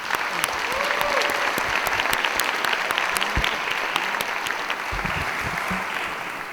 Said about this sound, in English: Give him another round of applause, please.